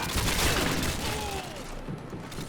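Shotgun fire in Call of Duty Modern Warfare 2, a dense spread of loud gunfire and booms that fills the first half and then eases into a steady, noisy battlefield wash.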